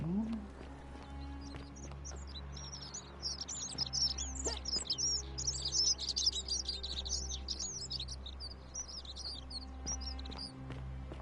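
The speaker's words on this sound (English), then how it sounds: "Birds, little birds." Little birds chirp in the video game The Forgotten City, a dense flutter of high tweets building in the middle of the stretch over a steady low hum, with brief soft sounds around it.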